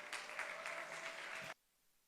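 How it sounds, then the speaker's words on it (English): A conference audience applauds to welcome a speaker at a wealth summit, a dense, steady round of clapping that fills the room and then stops abruptly. "let's please welcome him and celebrate him with a round of applause"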